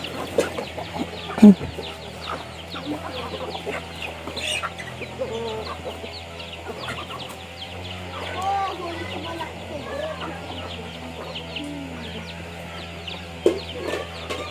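Chickens cluck and murmur steadily nearby, with occasional sharper squawks and brief bumps, while people talk in the background.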